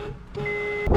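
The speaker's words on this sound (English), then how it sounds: "Now, does your horn sound like this?" Weak stock horn on a 2008–2012 Honda Accord gives one thin, steady honk lasting about half a second, clearly audible but not loud, with car noise around it.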